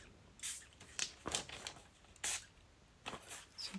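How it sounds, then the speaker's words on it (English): Several short hissing bursts from a water spray bottle onto a mixed media artwork page, close and fairly quiet, spaced irregularly with brief pauses between them. "I've just sprayed some water onto it"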